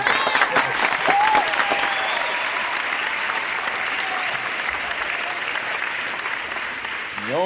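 A studio audience breaks into sustained applause and cheering during a hip-hop album battle show, thick clapping with scattered whoops holding steady throughout.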